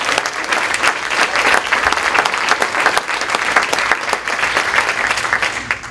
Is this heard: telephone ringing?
no